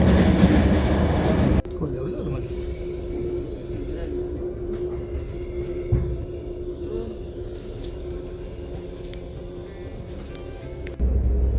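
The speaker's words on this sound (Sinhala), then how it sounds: "අපි දැන් මේ ඒ ට්‍රේන් එකේ එයාපෝට් එකට යන ගමන් තමයි ඉන්නේ" An airport train in Romania rumbles along the rails with a steady hum and occasional clunks, heard from inside a carriage with faint background sounds.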